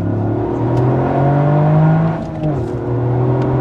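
A Toyota Yaris GR with a 261 hp three-cylinder engine revs hard and accelerates toward 7000 rpm, a loud, continuous, rising engine drone with a brief dip around a gear change, close and steady with no talk.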